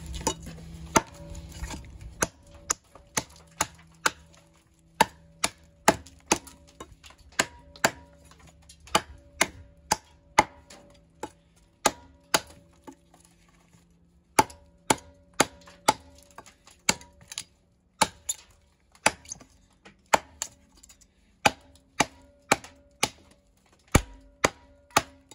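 An Ontario RD-9 knife chops repeatedly, giving sharp, close, evenly spaced knocks that continue for about 25 seconds. A faint ringing tone hangs under the impacts, and no one speaks.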